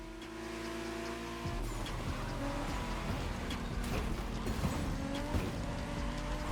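Race cars roar together in a Crew Motorfest video game race, steady engine drone with tire squeal and skidding bursts, moderately loud and unbroken, without talking.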